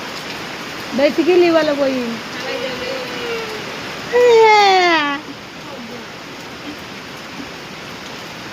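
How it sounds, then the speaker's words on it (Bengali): Heavy rain makes a steady broadband hiss throughout, with people talking over it in bursts. "কি বৃষ্টি থামবে না নাকি? এত বৃষ্টি হলে হয়।"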